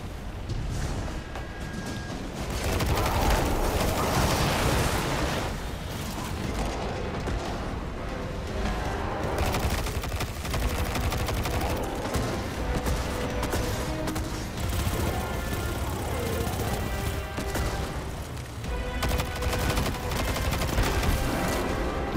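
Enemy turret gunfire in Destiny 2, a dense, continuous barrage of loud shots and booms running throughout, with no talk.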